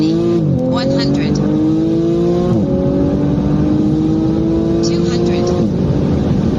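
A tuned Porsche 991.2 with an ES800 kit accelerates hard on a road test, the engine note climbing through several gears with sharp drops at each shift, loud and close throughout.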